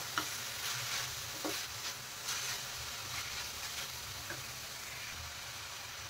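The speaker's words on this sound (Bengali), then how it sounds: "এখন পনিরও দিয়ে দিলাম, দিয়ে ভালো করে নেড়ে চেড়ে মিশিয়ে নেব" Paneer cubes in tomato sauce are stirred in a frying pan, making a soft, steady sizzle with light, scattered scraping strokes, fairly quiet and without talk.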